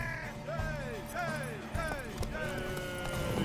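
Rhythmic hoofbeats of a horse moving along with clip-clop strikes in The Witcher 3: Wild Hunt, accompanied by whinnying and neighing calls over a low ambient bed.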